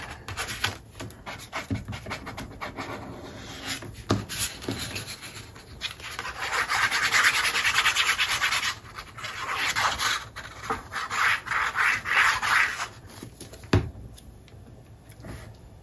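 Paper trimmed for a Graphic 45 Catch of the Day mini album page, with irregular close scraping and rasping strokes that grow denser in the middle, no talking.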